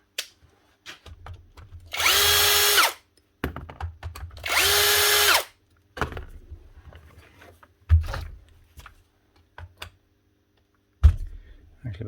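A Makita HR3210C rotary hammer drill runs and hammers in two loud bursts of about a second each, with clunks and handling knocks between them and a few sharper bangs later.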